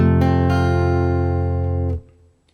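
An F barre chord strummed once on a guitar rings out sustained for about two seconds, then is damped, alone without talking.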